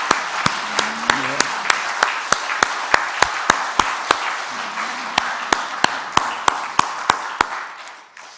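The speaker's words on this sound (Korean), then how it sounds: "축복의 박수를 한번 드렸으면 좋겠어요" A church congregation at a dawn prayer meeting claps in blessing: a single steady beat of sharp claps, evenly spaced and fairly close, with a voice speaking over them before they fade out.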